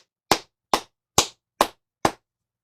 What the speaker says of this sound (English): Please give DSP a round of applause.